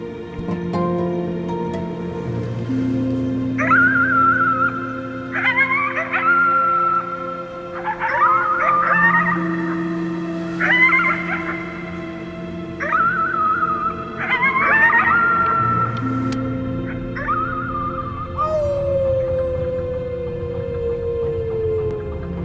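In the video game Before Your Eyes, a voice howls at the moon in a series of about seven rising, wavering howls, ending in a long falling glide over a sustained, soft musical drone.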